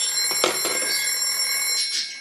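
A Fern Green PMG 802 telephone bell rings in a brief metallic trill, a short burst followed by a sustained ringing tone, close and moderately loud.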